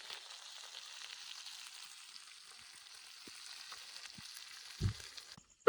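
Fish frying in a pan in a village kitchen, a steady crackling sizzle running throughout at moderate level, with a soft thump near the end and no talk.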